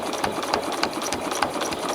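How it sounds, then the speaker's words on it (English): A sewing machine stitches a quilting line around an appliqué flower, a steady close mechanical whir with rapid rattling needle strokes running continuously. "So this line I'm stitching right now"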